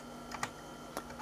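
Number keys pressed on an Apple Macintosh Classic II keyboard, a few quiet, crisp clicks in a loose irregular pattern close to the microphone, with a faint steady electrical hum underneath.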